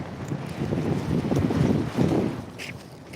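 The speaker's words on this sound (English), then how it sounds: "The wind is killer here." Gusty outdoor wind buffets the microphone in a steady low rumble that swells and dips, loudest around the middle, with no talking.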